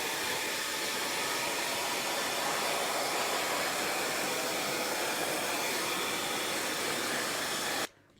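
A hair dryer drying decorative chalk paint blows with a steady, loud hiss for several seconds, then cuts off abruptly at the end.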